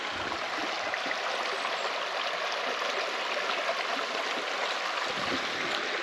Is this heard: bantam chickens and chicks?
no